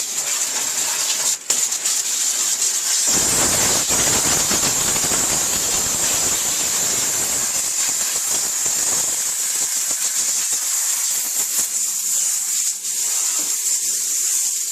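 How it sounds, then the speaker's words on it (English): A loud, steady jet of hissing steam from a steam cleaner blowing brake dust out of a car wheel, roaring with a harsh, high whoosh that shifts slightly in intensity throughout. "we can start by blowing some of the brake dust out with just the steam"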